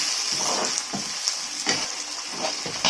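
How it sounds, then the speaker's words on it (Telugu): Lemon pickle frying in oil in a pan, a steady close sizzle with repeated scraping stirs of a spoon breaking through every half second or so, no voices. "ఒక 2 నుంచి 3 నిమిషాలు ఇలాగ ఆయిల్లో వేయించుకోవాలండి"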